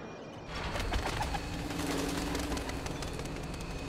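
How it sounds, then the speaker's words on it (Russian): Pigeons coo softly in the video game Syndicate, a low murmuring call repeating over a quiet ambient background, fairly faint and with no voices. "Я слышу голубей, но не вижу голубей."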